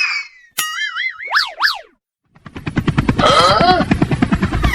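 A cartoon helicopter whirring to life: springy, wobbling boing-like tones first, a brief pause, then rapid rotor chops that quicken and settle into a loud steady beat.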